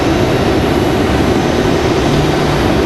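A JetBlue airliner's jet engines roar steadily before takeoff at Raleigh-Durham International Airport, a dense, continuous rumble filling the short stretch with no voices.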